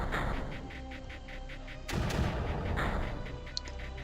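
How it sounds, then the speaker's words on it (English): Mortars firing in the Creeper World video game: a continuous rumbling barrage with a sharp, heavier boom partway through, all at a steady, fairly loud level over pulsing background noise. "now that mortar can keep that under control."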